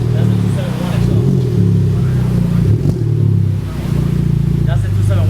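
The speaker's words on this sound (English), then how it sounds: "That's the 271 exhaust" A Honda Civic Type R with a 271 exhaust idles and revs up close in a steady low rumble, blips rising and falling briefly while people talk nearby.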